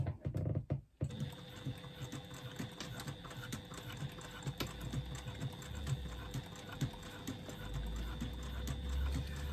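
After a brief clunk and pause, a sewing machine runs steadily, stitching clutch lining onto a faux leather facing panel with a 3/8-inch seam allowance, a close, even rattling whir that continues to the end.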